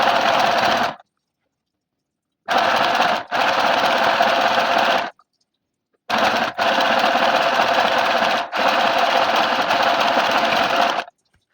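A sewing machine runs stitches on a dress fitting at home, loud and close, in three bursts of steady mechanical whirring separated by short pauses, with no talking.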